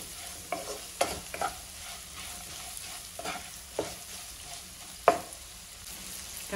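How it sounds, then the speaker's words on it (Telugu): Bitter gourd with turmeric and salt being stir-fried in a pan, a soft steady sizzle broken by several sharp scraping clinks of a spatula stirring at irregular intervals, close and alone without talk. "వేసి కలుపుకుంటే తొందరగా ఫ్రై అవుతుంది."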